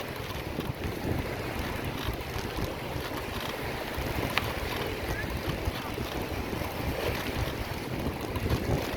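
Steady wind roars across the microphone as a bicycle rides into a headwind on Fort Myers Beach, Florida, a continuous broadband rush with surf and water in the background and no clear voices.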